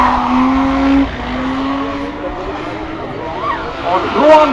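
A BMW drift car fitted with a Toyota engine does a show run during the Nürburgring 24-hour race pre-program, its loud engine note rising and falling with squealing tires while an announcer talks over it.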